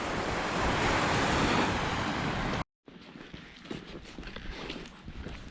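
Waves surging onto a beach on the Isle of Man coast as the tide comes in, a broad loud rush of surf and wind that cuts out briefly, then continues as softer, choppier water with some wind buffeting.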